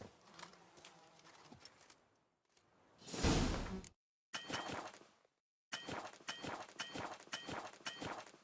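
Horse hooves in The Witcher 3, a steady clip-clop of galloping strides at close range after a loud whoosh, broken by brief gaps of silence, with no talking.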